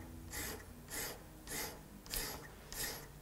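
A hand file or sharpening stone stroked along a scissor blade to remove machine grind marks, five slow rhythmic rasping strokes, close but quiet, with pauses between each pass.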